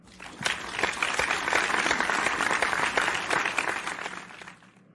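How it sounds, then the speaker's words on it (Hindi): An audience applauds to welcome a contestant onto a comedy game-show set, heard as dense, steady clapping that swells, holds for several seconds and then fades out. "तालियों से स्वागत कीजिए मिस्टर विनोद का"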